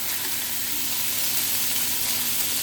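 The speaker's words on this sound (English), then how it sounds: "I have some browning on the frying pan, and you want to brown it to seal in the juices." Steak browns in a hot frying pan with a loud, close, unbroken sizzle, a dense hiss with faint crackle that holds level throughout with no talking.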